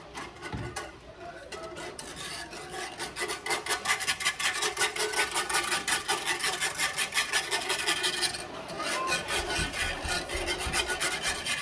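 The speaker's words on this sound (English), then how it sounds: "I'm sorry for the scraping noise" Steady rasping scrapes repeat quickly and rhythmically, a utensil dragged across the bottom of a pot of flour and milk for a cheesy chicken dish, with a brief pause partway through.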